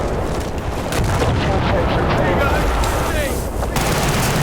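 Dense, continuous battle noise from Battlefield: Bad Company 2 Conquest mode on the Nelson Bay map, with gunfire and booming explosions blended into a loud wash and a player talking over it.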